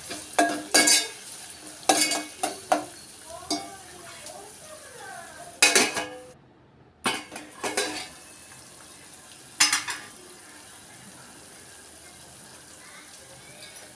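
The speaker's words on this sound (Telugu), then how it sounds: "ఒక స్పూన్ అల్లం వెల్లుల్లి పేస్ట్ వేసుకొని పచ్చివాసన పోయేంత వరకు వేయించుకోవాలి" Ginger garlic paste fries with onions in a pan. Sharp clinks and scrapes come from repeated stirring, and a quiet sizzle fills the pauses between them.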